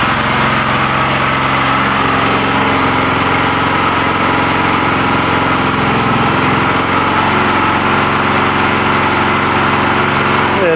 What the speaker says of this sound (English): Judging by the noise this is making, I need to adjust the mixture again.